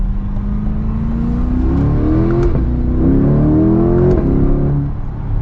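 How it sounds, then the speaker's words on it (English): Chevrolet C8 Corvette Convertible engine revs up hard under acceleration, a loud close rising drone that climbs through gears with quick shift breaks, heard from inside the car. "Coming up here, we should be able to get a pretty good acceleration here in this little area."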